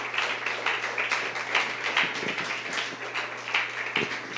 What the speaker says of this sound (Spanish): Un aplauso a nuestro Padre.